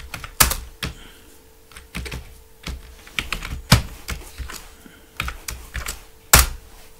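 Someone types in bursts on a computer keyboard, with sharp, close clicks and a few louder key strikes between short pauses.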